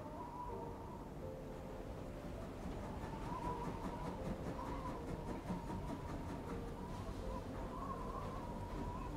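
Passenger train rolling along the rails in the Agatha Christie Murder on the Orient Express video game, a steady low rumble with faint rhythmic clicking and occasional tonal hums, continuous with no talk.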